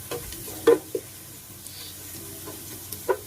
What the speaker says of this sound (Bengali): এগুলো পেঁয়াজের সাথে একটু ভেজে নিব।